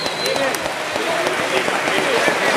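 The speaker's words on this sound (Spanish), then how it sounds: "Cojan un fuerte aplauso a comprar el suéter." A crowd at a murga carnival show applauds with dense, continuous clapping that stays loud and even throughout, with faint voices mixed in.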